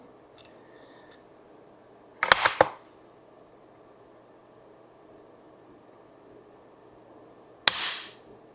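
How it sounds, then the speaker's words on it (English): Handgun dry-fire practice yields two sharp, close mechanical snaps several seconds apart as the trigger is pulled on an empty gun, with faint handling sounds before them in an otherwise quiet indoor space. "Do that again with the trigger pull."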